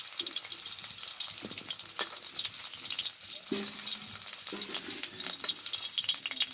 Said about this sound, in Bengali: দেখো পনিরগুলো খুব সুন্দরভাবে ভেজে নিয়েছি